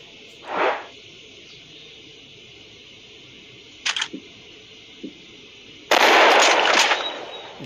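Sniper rifle shots ring out in the Hunting Sniper mobile video game: a muffled shot, then sharp clicky reports, and finally a loud burst of gunfire that fades out, with no talking.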